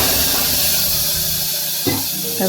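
Water poured into hot oil tempered with mustard seeds, fenugreek, asafoetida, turmeric and red chilli gives a loud, continuous, close hiss and sputter throughout, with a brief thump near the end and no talking.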